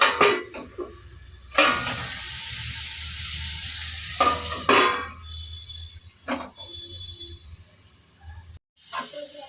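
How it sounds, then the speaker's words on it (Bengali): Ridge gourd frying in a pan, a soft steady sizzle broken by a few loud scraping stirs and clanks of utensils against metal, close, with a sudden brief cut near the end. "এই যে আমার ঝিঙ্গাটা ভাজা হয়েই এসেছে"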